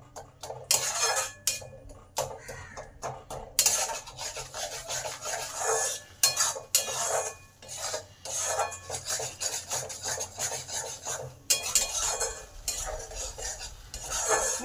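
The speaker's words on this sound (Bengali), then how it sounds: "এবার এটাকে ভালো করে কষে নেব" Tomato masala with yogurt and spices being sautéed and stirred in a pan: repeated close rasping spatula scrapes against the metal pan, steady and busy, with no voices.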